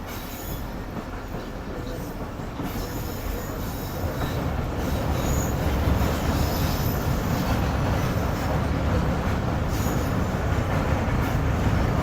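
Karakoram Express rolling slowly over the Empress Bridge with a damaged coach: a steady, loud rumble of wheels and carriages with squealing metal, building slightly and continuing throughout with no voices.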